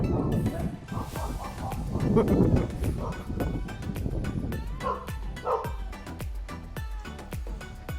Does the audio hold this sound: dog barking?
yes